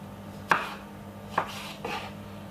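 A pear sliced with a very sharp kitchen knife while making a Caribbean breakfast, three crisp chops landing on a board at uneven intervals, fairly close and alone.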